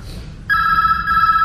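An old telephone bell starts ringing in a musical theater production, a steady bright electric trill that kicks in abruptly and continues over a faint low background hum, with no voices.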